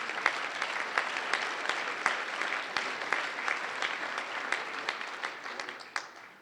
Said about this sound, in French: Marc Morel, on l'applaudit